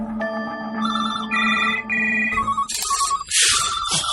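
A telephone rings with a loud electronic melody, its tones repeating, then swelling into a harsher, more chaotic burst of ringing near the end.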